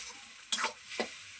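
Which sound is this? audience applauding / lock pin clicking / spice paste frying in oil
spice paste frying in oil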